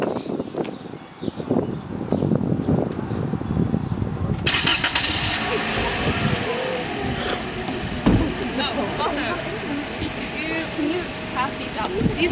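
A car engine runs under the hood while the transmission fluid is being checked, a steady mid-pitched idle rumble close by throughout, with a brighter, louder section partway in.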